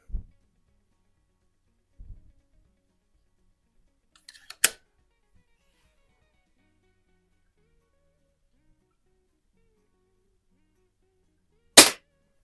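A Hy Score model 819 (Diana 10) air rifle, freshly resealed, fires at a bullseye target, giving two sharp, loud single cracks several seconds apart among faint clicks and handling noises in an otherwise quiet setting.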